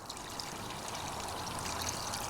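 Coolant draining from a Vespa GTS scooter during a coolant flush, a steady pouring trickle of liquid that runs continuously at close range without talk.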